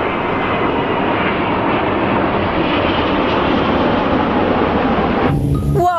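A Boeing 737 passenger airplane flies past, its engines giving a loud, steady roar that holds throughout, ending in a brief clatter near the close, with no talk.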